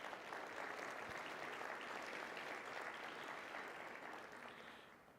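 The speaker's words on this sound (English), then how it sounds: "let's give them a big round of applause" Audience applause for a company's employees at a shareholders meeting, a steady wash of clapping from a large crowd that holds for several seconds and then tapers slightly at the end.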